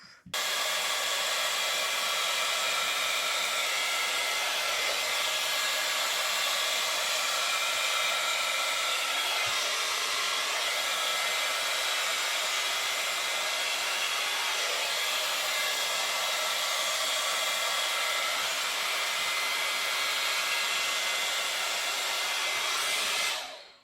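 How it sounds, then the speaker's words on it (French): A Babyliss Big Hair rotating hot air brush runs with a steady, loud blowing whoosh that holds without a break for about twenty-four seconds, with no voices over it. "nous allons de ce pas tester la Babyliss Big Air et voir ce qu'elle peut nous proposer pour la coiffure avec ses différents embouts"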